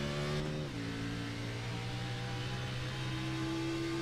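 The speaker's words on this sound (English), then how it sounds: "he is shifting because I heard it upshift down the straightaway" Xfinity Series stock car at New Hampshire roaring down the straightaway, its steady engine note dropping sharply once as it upshifts, then climbing again under a loud continuous drone.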